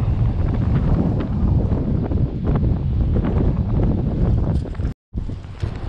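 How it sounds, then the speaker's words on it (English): Strong wind whips across the shore, a loud continuous roar of gusts buffeting the microphone with no let-up, broken only by a brief dropout near the end. "it's kind of hard to tell from a GoPro,"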